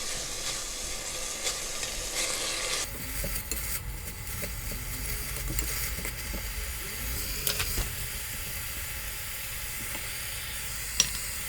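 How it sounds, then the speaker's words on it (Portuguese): Strips of burdock root sauté in hot oil with a steady hiss and sizzle that shifts when the pan is stirred, with faint scrapes and a light utensil clink, close and without talk. "Vamos dar uma refogada."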